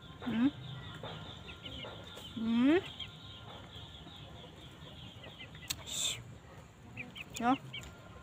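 Chickens cluck and squawk in short, sharp bursts, several calls rising in pitch, fairly close over a quiet background.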